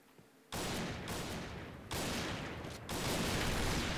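Dense bursts of gunfire from the online shooter game Point Blank, loud and continuous, rising in intensity across three successive volleys with no pauses between them.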